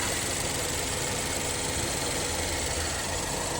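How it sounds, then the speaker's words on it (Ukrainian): A BMW 118i engine idles steadily and smoothly, a continuous moderate hum and vibration with no voices over it. "Слухайте, як працює двигунчик."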